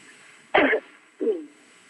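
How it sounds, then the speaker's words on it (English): A person with a cold coughs twice, a sharp first burst followed by a softer, shorter second one, close and alone in a quiet room. "Just coughing a little bit because of the cold weather"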